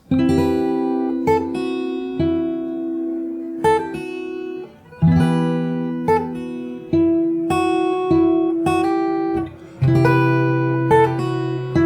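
Fingerstyle acoustic guitar plays a chorus slowly, with plucked chords and melody notes in a steady, repeating pattern of ringing attacks, moderately loud and alone.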